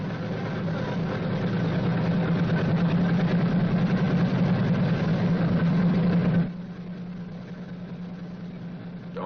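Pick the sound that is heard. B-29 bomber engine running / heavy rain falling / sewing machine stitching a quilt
B-29 bomber engine running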